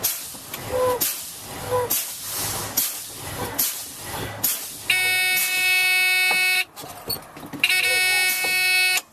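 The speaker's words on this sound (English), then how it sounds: "I'm going to go ahead and bleed the system out." A commercial truck's air brake system is bled down in loud bursts of hissing air, several long releases in a row, then a steady piercing low-air warning tone sounds alongside the hiss.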